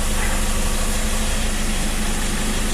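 A 2012 Toyota Fortuner with the 2.5-litre 2KD diesel engine idles steadily, a constant low rumble with a faint vibrating hum, close by and without speech.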